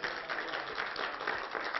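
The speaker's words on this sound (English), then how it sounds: "And a huge round of applause for Ibrahim." A large audience gives a sustained round of applause at a community dialogue event, a steady dense wash of clapping at moderate distance with no break.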